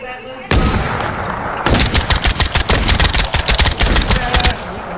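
Gunfire in the video game Last Man Standing: a loud, continuous barrage of rapid automatic bursts and sharp individual shots that starts abruptly and keeps hammering to the end, with voices faintly mixed in.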